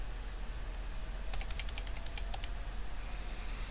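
A short burst of crisp keystrokes on a computer keyboard, about a dozen light clicks in quick succession, sits over a steady low hum in an otherwise quiet room.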